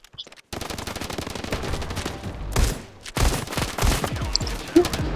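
Rapid bursts of shotgun fire in a game, dense repeated shots with heavier booming blasts, loud and close, with brief pauses between volleys.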